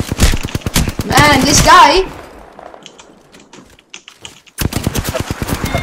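Rapid automatic fire from a Spitfire light machine gun in the game Apex Legends, loud, dense bursts at the start and again near the end, with a voice talking over part of it.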